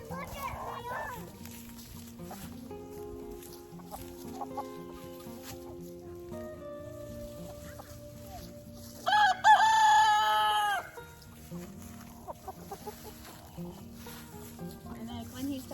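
Chickens on a homestead cluck and mutter at close range, and a rooster lets out one loud crow partway through; someone talks at times over the flock.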